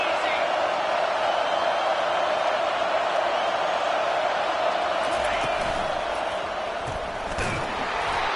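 Stadium crowd roaring during a college football video game, Tennessee against Georgia on a big third down, a steady dense wall of cheering noise with a faint thud or two near the end.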